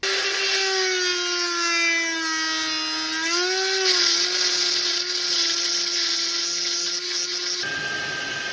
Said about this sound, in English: I'm just using porting tools on a Dremel.